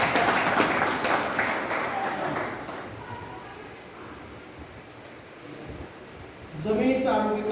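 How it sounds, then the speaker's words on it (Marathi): Audience applause greets a woman called up to the front at an outdoor-style lecture on organic farming and lifestyle; broad clapping fills the opening seconds, fades under the room, then swells again near the end. "हा आपण सर्व टाळ्या वाजवून त्याचं स्वागत करूया."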